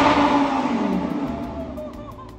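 A Lamborghini engine roars loud and close as the accelerator is pressed, its strained tone sliding lower as the rev fades.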